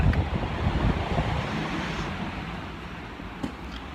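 Gusty wind blusters outdoors against a microphone, a steady low rumble that is strongest at the start and eases slightly over four seconds, with no talking.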